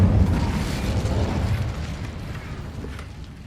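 A fire spell cast in the PS5 game Hogwarts Legacy bursts out as a loud, booming whoosh that rolls on and slowly fades over a few seconds.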